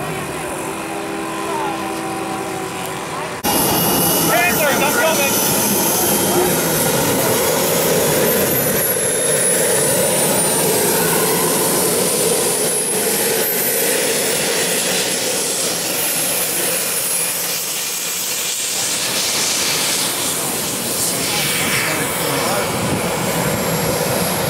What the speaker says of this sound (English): B-25 lining up